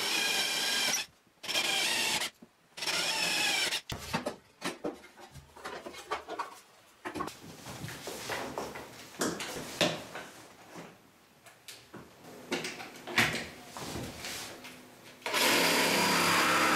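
Jigsaw cutting out the inner section of a wooden multifunction workbench top, with loud buzzing bursts separated by short pauses and then a longer stretch of rougher, uneven cutting.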